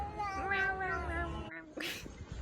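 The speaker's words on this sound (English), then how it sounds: "I love cats that make noise when they eat." A cat meows in a run of short, wavering cries while eating, fairly close and clear, with a brief gap followed by a final squeakier sound.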